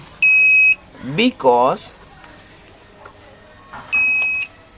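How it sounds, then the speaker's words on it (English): A water tank motor controller gives two steady electronic beeps, each lasting about half a second and spaced a few seconds apart, with a voice talking between them. "the device will continue to beep, because we have already reached the time when this device is supposed to turn on"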